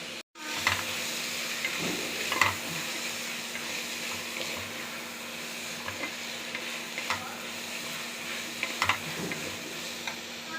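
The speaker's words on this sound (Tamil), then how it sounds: "கேரட்டு பீன்ஸு உருளைக்கிழங்கு மூணையும் கலந்துக்கலாம்" Carrots, beans and potatoes frying in a pan for veg biryani are stirred with a spoon: a steady sizzle runs throughout, broken by regular soft scraping strokes and small clicks, close and clear with no talking.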